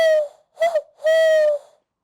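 A person imitates an owl with three voiced hoots: a long whistling tone, a short wavering one, then another long sustained hoot, clear and close with silence between.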